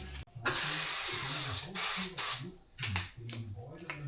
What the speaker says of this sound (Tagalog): At least magamit na natin yung spray na binili natin